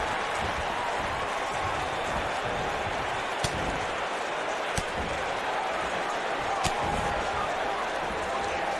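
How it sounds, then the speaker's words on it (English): A dense, roaring arena crowd from WWE 2K19, at an ROH 17th anniversary show, fills the whole stretch with a steady wash of noise, broken by a few sharp slams or claps. "I don't remember the last time I heard a more passionate crowd than the one we have here tonight"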